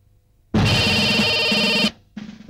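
A telephone gives a loud electronic ring that lasts over a second, pauses briefly, then starts ringing again, with no voices.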